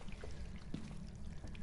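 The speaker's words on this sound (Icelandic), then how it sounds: "Það er eitthvað leka þarna." Water leaking and dripping somewhere nearby, a faint steady trickle with scattered small drips and splashes, continuous and quiet throughout with no voices.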